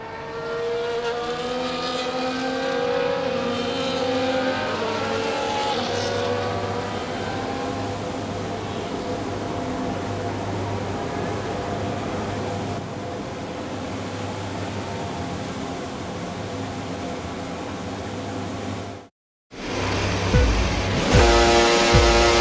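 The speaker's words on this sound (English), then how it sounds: "As the cars come back towards the grid to line up for the start of the race" F1 cars in the F1 24 racing game drive back toward the grid at the Spanish circuit before the race start, a loud, steady engine drone with shifting pitch that cuts out abruptly and then resumes.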